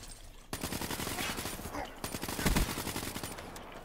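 Rapid automatic gunfire from the video game Black Ops 3, a dense stream of loud close-range shots with a heavier burst near the end, under excited voices.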